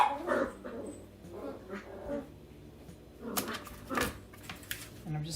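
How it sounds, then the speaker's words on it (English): Puppies play close by, giving scattered yips, whimpers and small growls in short irregular bursts with quiet gaps between them. "Puppies are playing."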